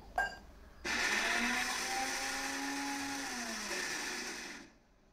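A mixer grinder whirs loudly for about four seconds after a brief knock, its motor pitch dipping slightly as it grinds semolina batter with a little water, then cuts off.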